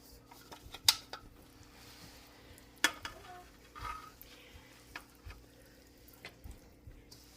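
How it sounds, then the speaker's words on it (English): Pineapple casserole mixture being stirred in a bowl, soft wet squelches with a couple of sharp clinks of utensil against dish, fairly quiet and intermittent over a low background hum. "as I stir it, it's making the juices come out"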